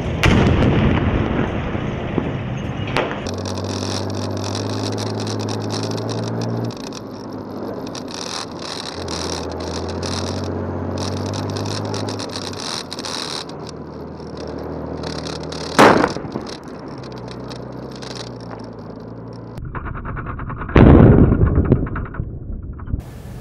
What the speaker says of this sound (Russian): Наводчик немедленно открывает ответный огонь.